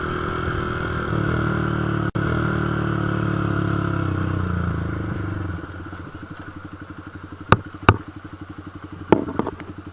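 A Honda CB125F motorbike engine idles close by, its note dropping to a lower, even putter partway through, with a few sharp clicks and clunks from the controls near the end.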